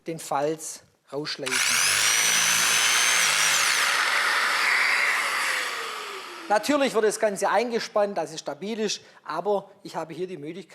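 A Festool belt sander grinds a workpiece such as a handrail with linear strokes, a loud, steady whine lasting several seconds before stopping, with someone speaking Polish before and after.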